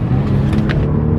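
A car pulling hard from a 40 mph roll, its engine note loud and close, droning steadily through a brief burst of acceleration with no talking.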